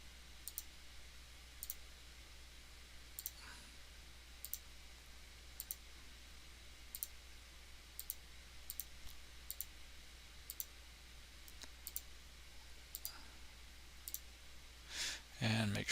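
Faint, sharp mouse clicks come at irregular intervals while a shape is drawn in Onshape CAD software, set against a low steady hum, with a brief rustle near the end.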